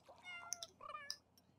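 A cat in the video game The Sims 3 gives several short, close meows in quick succession, with a quiet background and no talking.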